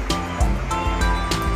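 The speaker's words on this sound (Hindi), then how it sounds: "ड्रेन का पानी ऊपर से आता है" Rainwater pours through a running village drain during the rainy season, a steady close rushing wash with a few brief splashy bursts and no talk.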